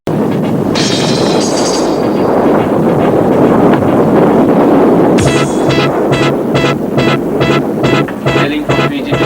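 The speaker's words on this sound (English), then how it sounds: "The winds howled fiercely and ripped the mainsails and the jib sails." Strong wind roars continuously across a sailboat at sea during a rough passage toward Auckland in winter, loud and broadband throughout, with flapping or rattling bursts in the second half.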